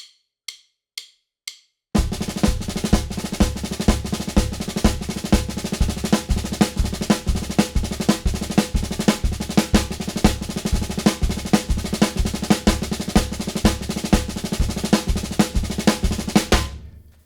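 A drum kit plays triplets slowly, the unaccented notes bounced into five-stroke rolls on and off the beat, a steady dense pattern of sticking after a few sparse opening hits.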